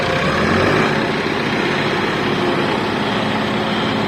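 A tractor engine labours loudly and continuously while stuck in wet mud on farm ground being levelled, a close, heavy, unbroken diesel roar with no pauses.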